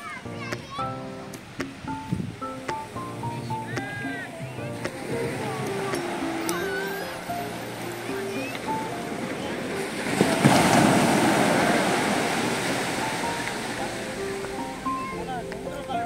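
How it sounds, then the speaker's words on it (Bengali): Sea waves wash ashore on Dublagadi beach in Odisha under a cloudy sky, a steady surf rush that swells louder in the second half, with voices talking over it and wind buffeting the microphone. "আর এখন দাঁড়িয়ে আছি আমরা একদম সমুদ্রের ধারে।"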